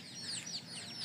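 Free-range desi chickens clucking in quick, overlapping chirpy calls, a short busy burst of several birds close by at low volume.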